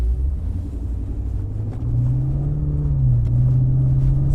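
A Lexus IS-F engine hums in a low, steady drone during relaxed casual driving, heard from inside the car with a slight rise in pitch midway and no sharp revving.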